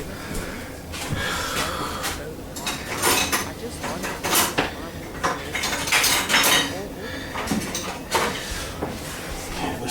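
Dishes and metal cutlery clatter and clink repeatedly in a home kitchen while a tablespoon is fetched during fried rice cooking, close and fairly loud in irregular bursts.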